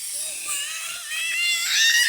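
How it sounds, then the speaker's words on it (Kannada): An electric mixer grinder spins coriander, a handful of mint, salt and cumin, giving a high, steady motor whine with hiss that rises and grows louder toward the end. "ಇದು ಮಿಕ್ಸಿ ಮಾಡ್ಕೊಂಬರೋಣ."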